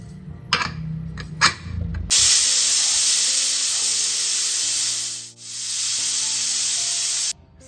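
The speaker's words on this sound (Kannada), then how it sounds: "ಸೊ ಇವಾಗ ನಾವು ಕುಕ್ಕರ್ನ 2 ವಿಸಿಲ್ ಆಗೋಷ್ಟು ಕ್ಲೋಸ್ ಮಾಡ್ಕೊಂಡಿದ್ದೀವಿ" A pressure cooker with a kurma of vegetables and masala vents steam in a loud, steady hiss that runs almost unbroken for about five seconds after some brief clatter, dips for a moment, then cuts off sharply.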